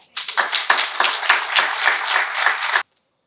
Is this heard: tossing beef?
no